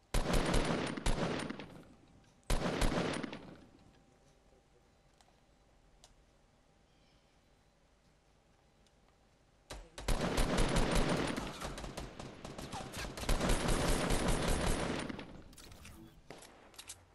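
Bursts of rapid gunfire crackle loudly in Fortnite on PS4, a short volley, a quiet stretch, then longer sustained automatic fire.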